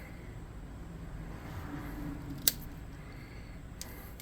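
Scissors snip through paper while cutting out wing shapes for a handmade craft chimera, quiet and close, with one sharp click partway through and a fainter snip near the end.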